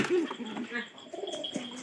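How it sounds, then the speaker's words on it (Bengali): A pigeon makes short soft coos at close range, a few brief throaty calls among light rustling. "এই যে পায়রার মতো ডাকতেছে কেন জানেন?"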